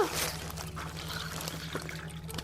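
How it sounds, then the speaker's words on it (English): Water trickles and pours steadily into salt for a small salt-water-powered gadget, a soft, close liquid stream over a faint steady hum, with no voices. "All you have to do is add a little salt and water."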